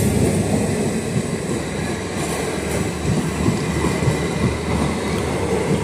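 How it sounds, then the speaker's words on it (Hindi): A DEMU train arriving at Sardar Gram station, with loud continuous rolling wheel rumble and rail clatter close by, a faint squeal in places and no talking. "और दोस्तों, आ चुकी है अपनी डेमो ट्रेन।"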